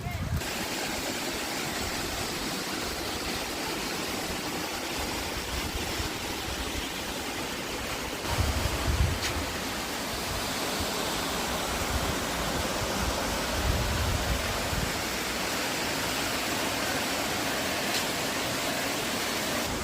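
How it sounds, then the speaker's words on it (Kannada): Water rushes through a forest stream near Dandeli, Karnataka, in a steady, continuous wash of flowing noise that holds evenly throughout. "ಇಲ್ಲೊಂಥರ ನೀರು ಹರಿತಿದೆ ನೋಡಿ."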